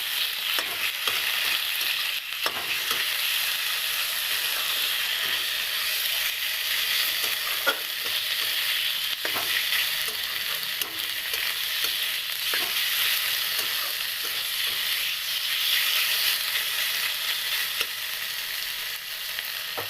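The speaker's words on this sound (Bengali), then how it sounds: "মাছটা দিয়ে ভালোভাবে নেড়ে নিই" Vetki fish pieces frying in a pan of hot oil, with a steady, loud, continuous sizzle and occasional scraping knocks as the fish is stirred, heard alone throughout.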